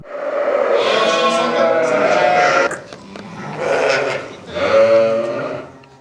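Several newborn lambs bleat close by in a sheepfold, long wavering cries overlapping in three main bursts, with no talking.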